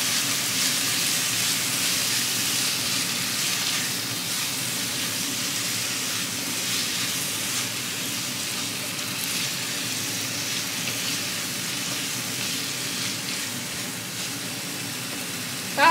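Onion sizzles in a pan while being cooked for pilaf, a continuous close, even hiss of frying that holds steady throughout before a small knock at the very end.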